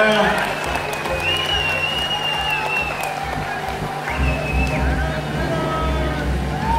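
An outdoor audience at a fireworks festival awards ceremony applauds in a continuous, moderate patter, with voices and a low engine-like hum underneath.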